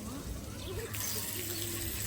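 Running tap water at a temple washing spot, where hands and feet are rinsed before entering; a steady, moderately quiet splashing flow continues throughout with faint voices in the background.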